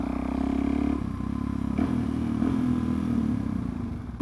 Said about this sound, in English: The starter is sounding amazing now.